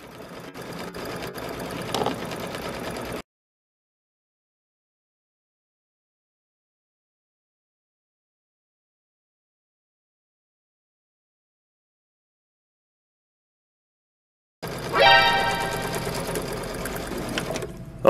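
A Baby Lock Solaris sewing machine stitches an edge-to-edge quilting design, whirring rapidly and close, then cutting out into a long stretch of silence before the stitching resumes.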